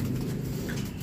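A racing pigeon coos softly in a loft after a 53 km club training toss, one brief low murmur amid steady background noise.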